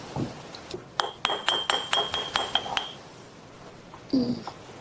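A glass jar of natural peanut butter with no added salt or sugar clinks about ten times in a quick, even rhythm, bright and close, with a softer knock near the end and no talk.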